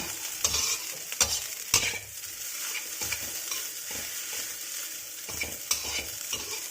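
Day-old rice tossed with oyster sauce and salted fish is stirred in a hot pan, with a steady sizzle under a few sharp scraping strokes of the utensil against the metal.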